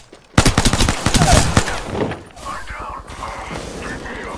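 Rapid pistol fire in an Apex Legends match, a tight burst of sharp shots landing close and loud, then fading into scattered game noise while players talk over it.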